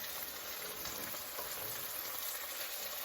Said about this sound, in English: Your cheese is melting on there. That's what you want. It's cooking and it's melting on there.